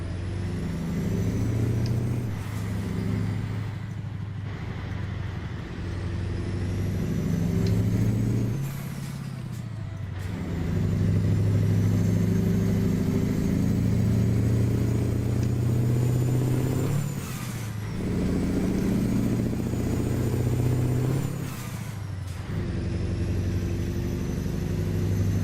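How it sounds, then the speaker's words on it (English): A truck cattle-train rig engine is revved hard, a loud, deep rumble that climbs and drops through several surges with brief pauses between them, heard close and alone. "I really don't have to rev it like this. I just love the sound of it."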